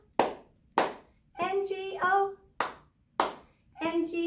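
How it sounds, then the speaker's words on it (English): Hand claps fill the gaps in a children's singalong of the Bingo song, with sharp single claps alternating with sung syllables in a steady rhythm, five claps spread across the phrase. "We just clap if the letter's not there."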